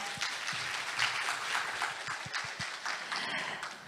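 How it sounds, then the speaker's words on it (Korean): A conference audience at an ESG international conference claps in a soft, sustained round of applause, heard from some distance and fairly quiet. "수고해 주신 두 분을 위해서 여러분 다시 한번 큰 박수 부탁드립니다"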